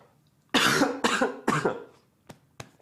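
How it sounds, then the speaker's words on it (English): Three loud, close coughs in quick succession from a man, followed by two short, softer throat-clearing bursts, with no talk. "I got to take a quick cough break."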